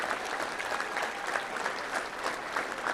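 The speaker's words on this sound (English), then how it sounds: "Let's give all these head coaches a round of applause." An audience at a touchdown club luncheon applauds high school and college head coaches, a steady, moderately distant wash of many hands clapping throughout.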